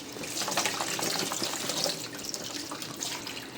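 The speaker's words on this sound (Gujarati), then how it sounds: "થોડી થોડું ગરમ પાણી આવવા દેવાનું" Warm water runs from a tap onto butter in a steady, close hissing stream with slight splashing fluctuations, and no talk.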